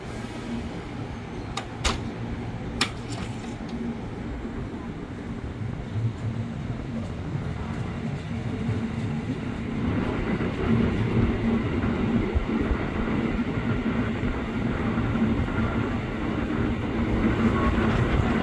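A KRL commuter electric train rumbles through Manggarai station, a steady broad rumble slowly growing louder, with faint clicks early on and station ambience throughout.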